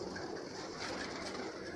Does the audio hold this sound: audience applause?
no